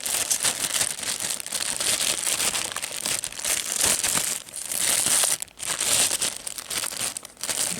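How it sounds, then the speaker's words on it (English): A plastic bag holding 1/56 scale Red Army model kit sprues is opened, giving loud, continuous crinkling and crumpling of plastic close by, with brief pauses near the end. "If I open this bag up here, be able to get a better look at them."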